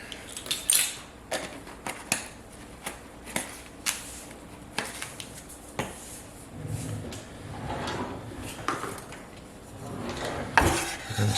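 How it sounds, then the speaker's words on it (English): A spoon stirs a teaspoon of alum into a cup of plain white vinegar, giving a series of close, sharp clinks and scrapes against the container at an irregular rhythm, alone with no talking. "We're going to stir that around until it's dissolved."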